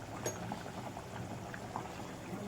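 Poori masala simmering in a pan gives soft, faint bubbling with small scattered pops, steady and low throughout with no voices.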